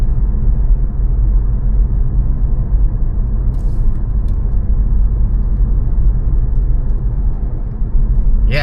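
Steady low engine drone of a Ford Focus at around 4,000 RPM while driving near 40 mph, a continuous rumbling hum heard from inside the car with no voices over it.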